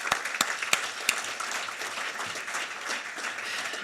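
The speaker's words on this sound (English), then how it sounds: "Let's give them a round of applause." An audience applauds the panelists and moderators at an education forum. A few sharp, close claps open it, then sustained clapping from a mid-sized crowd runs steadily to the end.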